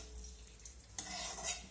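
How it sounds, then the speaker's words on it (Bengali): Cashews and raisins fry together in oil, a soft sizzle with a stirring scrape that swells suddenly louder partway through, close and quiet overall. "কিশমিশটাকেও তেলের মধ্যে দিয়ে একসঙ্গে ভেজে নেব।"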